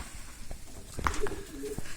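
Young breeding pigeons in a loft give a few soft, low coos with faint fluttering and shuffling around them, quiet and fairly close, without any talk.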